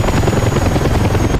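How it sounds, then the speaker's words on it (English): A heavy Russian helicopter's big rotor thumps in DCS World, a loud, close, continuous rhythmic beat of blades with a constant engine drone underneath and no speech. "Also, it's very heavy chopper, and it's a very heavy rotor blade."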